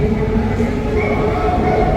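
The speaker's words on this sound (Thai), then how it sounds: "รถไฟพี่น้องเอ้ยรถไฟลอยฟ้า รถไฟฟ้า BTS นั่นเอง" A Bangkok BTS Skytrain, an elevated electric train, rumbles steadily and close by with a constant low roar and no clear breaks for the whole stretch.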